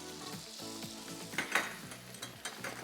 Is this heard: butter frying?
yes